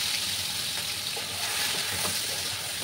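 Onion, garlic and green chili paste fries in hot oil in a pan for a fish curry, a steady, dense sizzle with soft crackles and occasional stirring, close and continuous with no talking.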